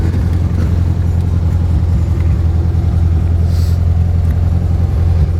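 A 1973 Volkswagen Karmann Gia convertible with a rebuilt engine idles in a cul-de-sac, its steady low rumble loud, close and even throughout, with no talk over it.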